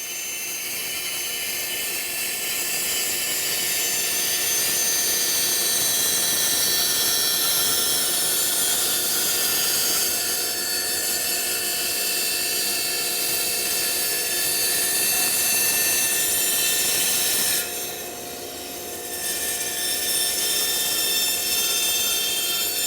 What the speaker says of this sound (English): we're just going to start cutting these curves.